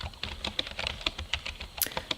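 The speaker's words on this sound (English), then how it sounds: "Someone's typing. I can hear someone typing." Someone types on a keyboard close by, with quick, irregular key clicks tapping out in bursts and no other sounds around them.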